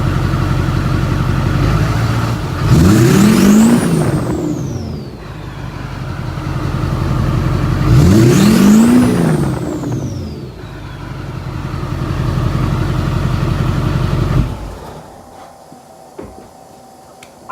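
A diesel truck's exhaust barks through two strong revs, each rising from a low rumble into a loud roar and easing back to a steady idle, before the engine cuts out near the end.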